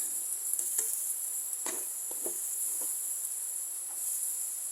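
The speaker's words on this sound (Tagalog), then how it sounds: "mag-uumpisa na po tayong maggisa ng ating bawang. At isusunod po natin yung sibuyas na tinadtad" Garlic and chopped onion sauté for chicken asado with a faint, steady high sizzle, broken by a few soft clinks and scrapes of a utensil in the pan, with no talk.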